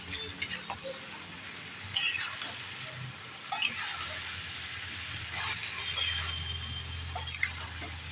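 Vegetables simmer with a little water in a pan for a simple vegetarian Bengali dish, stirred now and then with faint scrapes and metallic clinks over a quiet, low bubbling background.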